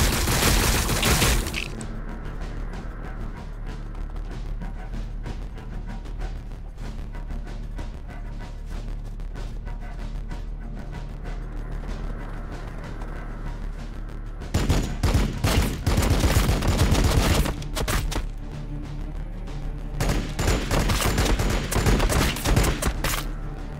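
Rapid volleys of gunfire crackle in dense bursts in Warhammer 40,000: Battlesector, a loud opening barrage, a quieter stretch of scattered shots, then heavy firing resumes toward the end.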